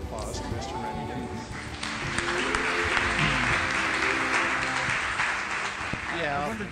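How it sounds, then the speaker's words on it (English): Sustained audience applause welcoming keynote speaker Rennie Davis to a stage, a dense, steady roar of many clapping hands that swells slightly midway, with faint voices mixed in. "Let's give a warm round of applause to Mr. Rennie Davis."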